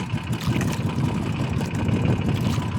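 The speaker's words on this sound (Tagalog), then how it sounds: "Barge yan guys." A barge engine idles near a pier, a steady low rumbling drone with a slight throb, moderately close and continuous, with no voices over it.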